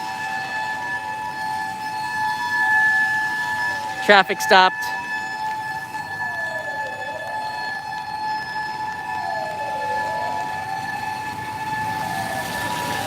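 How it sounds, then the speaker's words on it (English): An ambulance siren wails on a rainy street in Ginza, Tokyo, its tone slowly rising and falling over steady traffic hum, with a brief loud burst partway through and someone speaking over it. "comes an ambulance"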